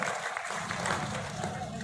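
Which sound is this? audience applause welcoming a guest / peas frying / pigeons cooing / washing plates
audience applause welcoming a guest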